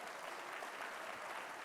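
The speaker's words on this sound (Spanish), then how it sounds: "Denle un aplauso al Señor Jesús." A church congregation claps together in sustained, steady applause, moderately distant and even throughout, with no voices rising above it.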